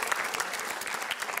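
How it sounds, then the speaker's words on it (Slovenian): Brief burst of lively clapping from an audience at a school pottery competition, dense and even throughout the short moment. "En lep aplavz pa tudi za osnovno šolo Šmarje Sap"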